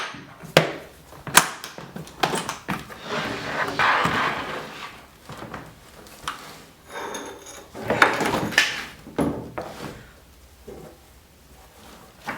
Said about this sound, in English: now once you have your 4 holes drilled for this, you can open up your suitcase